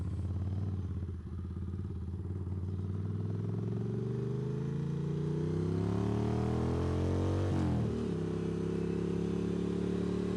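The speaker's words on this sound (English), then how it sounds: "you can certainly hear the aftermarket pipes on the bike" Motorcycle fitted with loud aftermarket exhaust pipes runs steadily close by, its engine note rising as it accelerates, briefly dipping around a gear change, then continuing at a throaty, sustained drone.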